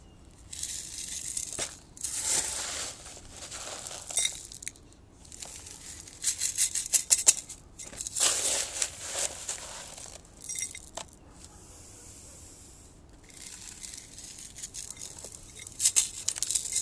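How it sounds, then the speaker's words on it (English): Bonsai soil poured into a pot while repotting a bougainvillea, with gritty rattling and crunching patter of granular soil in repeated bursts, close and fairly loud, with no talk. "So now it's just a matter of filling the rest of the pot"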